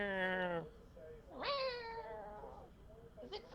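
A pet cat meows several times in a row, each call a rising and falling harmonic wail, close and fairly loud, with a short chirp at the end.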